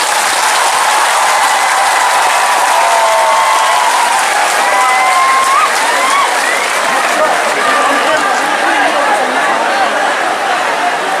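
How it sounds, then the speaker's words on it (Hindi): Sustained audience applause fills the space at an event, a dense, loud wash of clapping and crowd noise that runs steadily for over ten seconds without pause. "सबसे बड़ा ताली आपको होना चाहिए।"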